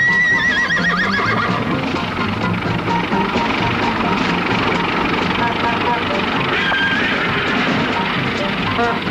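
A horse whinnies loudly with hooves clip-clopping in a Disney cartoon about the automobile replacing the horse, dense and continuous with music and narration mixed in.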